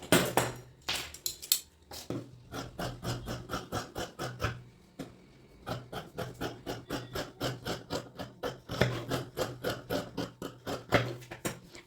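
Scissors cut through blouse fabric in a steady series of crisp snips, close and distinct, with a few short pauses between runs of cuts.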